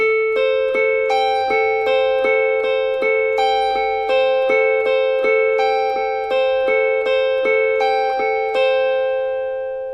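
Guitar strings picked in a steady repeating pattern, clear bright notes ringing over one another in an even rhythm, played alone.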